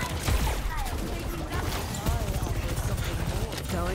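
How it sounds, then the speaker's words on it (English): Railgun gunfire from the video game Overwatch, heard as dense, rapid bursts of shots and impacts over about four seconds, loud and close, with game voices and effects layered underneath. "Railgun powered and ready to fire."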